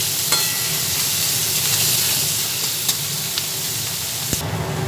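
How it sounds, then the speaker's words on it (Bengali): Garlic and ginger frying in oil in a pan, a loud, steady close sizzle with faint stirring clinks and no talk. "রসুন দিলাম এক চামচ আদা দিলাম এক চামচ সব একসঙ্গে দিয়ে আবার ভেজে নিই"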